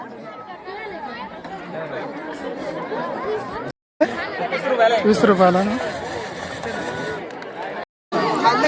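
A dense crowd chatters at a village fair in a forest setting: many overlapping voices babble nearby and continuously, with a couple of brief cut-outs, and someone close by speaks briefly among them.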